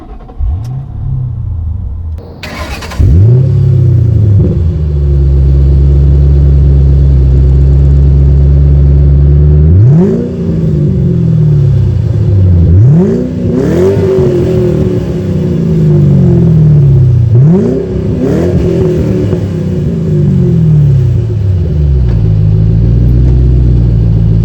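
A clean 2007 Ford Mustang Saleen with 10,000 miles starts with a loud rumbling crank, then idles and rises through three strong revving accelerations as it drives off, with a steady deep engine drone throughout.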